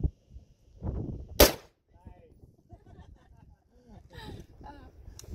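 A single sharp gunshot cracks at an outdoor shooting range in Southern Utah, loud and brief, set among scattered speech and light wind noise before and after it.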